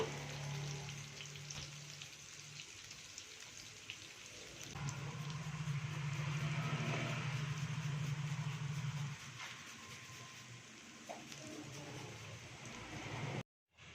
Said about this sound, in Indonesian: Kita tumis bumbunya teman-teman.